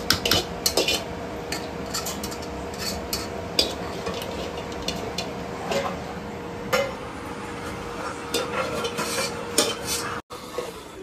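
Metal utensils scrape and clink against a pan while fried rice is stirred at home, with irregular sharp strikes and scrapes over a low background hiss and a faint sizzle, close and fairly loud.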